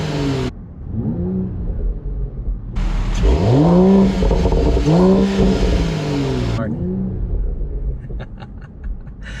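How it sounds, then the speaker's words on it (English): Mercedes-AMG E53 Cabriolet's 3-liter turbocharged inline-6 revving through its exhaust in several sharp throttle blips that rise and fall, loud and close, with a steady idle rumble between the revs. "let's go ahead and get a little exhaust clip of that 3-liter turbocharged inline-6 engine."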